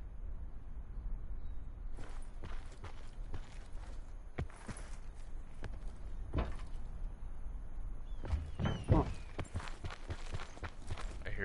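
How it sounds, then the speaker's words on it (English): Footsteps in Blackout, the battle royale game, with a scatter of quiet irregular steps and clunks amid a steady background hiss, building to a louder cluster of sharper impacts near the end and a brief murmur from someone. "Maybe it's your footsteps"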